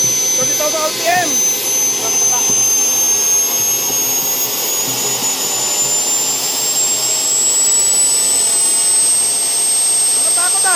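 JetJoe 1400 turbine jet engine running at around 30,000 RPM, a loud, steady, piercing high-pitched whine over a broad roaring rush, continuous and close, with a few brief voices underneath.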